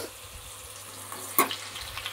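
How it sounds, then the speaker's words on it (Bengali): Potato pieces frying in hot oil for a mushroom dish: a steady, close sizzle with one sharp clatter of stirring partway through, and no voices. "সবার প্রথমে আলুগুলো আগে ভেজে নিচ্ছি"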